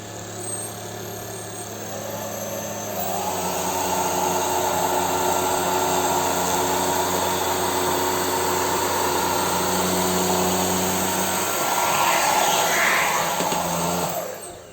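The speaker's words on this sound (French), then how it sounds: "l'aspirateur est donné pour 82 décibels en utilisation maximale." A JIMMY JV65 Plus cordless stick vacuum fitted with a carpet brush runs on carpet, a loud continuous whirring motor whine that rises as it presses into the pile and holds steady, with no talk.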